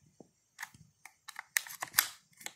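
The bolt of a pump-action shotgun is racked forward and back. A few sharp metallic clacks and slides sound close by, quiet and spaced, alone with no voices.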